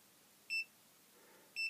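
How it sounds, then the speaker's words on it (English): A Matek USB power monitor signals the end of charging with two short, clean electronic beeps about a second apart against near silence. "it beeps several times and displays end"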